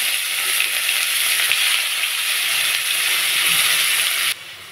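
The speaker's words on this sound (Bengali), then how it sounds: "তেলের মধ্যে দিয়ে দেব গোটা জিরে, গ্রেট করা পেঁয়াজ" Whole cumin and grated onion frying in hot oil for an egg and carrot curry give a steady, loud, dense sizzle that runs unbroken, then drops off sharply just before the end.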